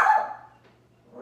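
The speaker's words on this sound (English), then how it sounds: "The dog's growling and barking at her" A dog barks once sharply at the start and then tails off into a low rumble, close by and fairly quiet in an indoor room.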